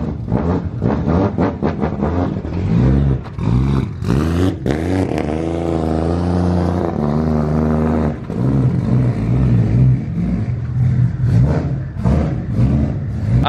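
A car doing a burnout in a driveway, engine revving hard in repeated rising and falling sweeps, loud and close, with a sustained high-rpm stretch in the middle and no talk.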